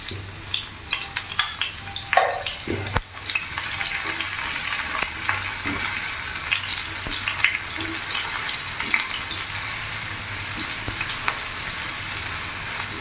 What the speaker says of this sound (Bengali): এবার ওই তেলের মধ্যে এখানে আমি দিয়ে দেবো একটা পেঁয়াজ কুচোনো বড় সাইজের